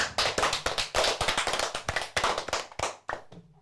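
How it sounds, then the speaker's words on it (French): A primary school class claps after a child reads a poem, close, uneven bursts of hand claps that thin out into a few scattered final claps. "Bravo, on peut applaudir aussi."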